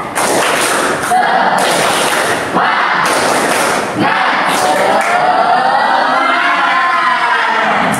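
A school class in Indonesia performs a rhythmic spirit clap together in bursts about every second and a half, mixed with children's shouts and cheering voices. The sound is loud and close and ends in a looser, chattering stretch.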